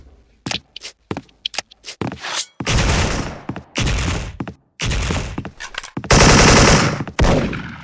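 Bursts of AK74 gunfire in the video game Special Force, starting with short separated shots and building into long, loud sustained automatic volleys with brief gaps between them.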